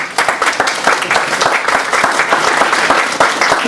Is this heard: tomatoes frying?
no